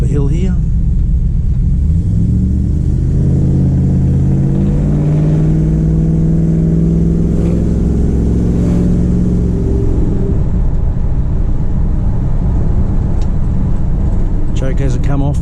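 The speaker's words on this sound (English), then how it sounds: "I'll give a bit of a burst up the hill here." A 1978 Plymouth Volare, built as a Richard Petty kit car, pulls up a hill on a cold engine with the choke still on, giving a loud, close, rumbling engine note that rises and swells under a voice.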